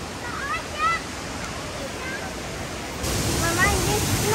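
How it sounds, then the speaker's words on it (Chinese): Rushing water at Xinliao Waterfall, a steady broadband roar that grows louder partway through, with faint voices of people mixed in. "我们终于到了新寮瀑布，非常的壮观呢"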